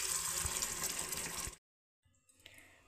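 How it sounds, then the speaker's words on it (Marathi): Water is poured into a pot of onion amti curry, a steady rushing splash for about a second and a half that cuts off abruptly, followed by faint bubbling. "आता आपल्याला अजून आमटीमध्ये पाणी घालून घ्यायचं आहे"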